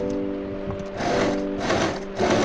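A sewing machine runs long stitches through the lining of a double katori blouse, a close, steady mechanical whir that surges louder in two bursts, with no talk over it.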